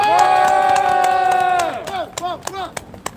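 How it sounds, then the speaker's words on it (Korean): Outdoor citizens' rally calling for a special counsel probe in Daejang-dong: a long sustained tone gives way to a crowd cheering and shouting in bursts, with a few sharp claps near the end. "박수 한번 쳐주십시오."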